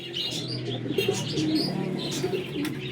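Flying pigeons of good breeds coo softly and repeatedly close by, mixed with light chirps and a few brief wing flutters over a low background hum.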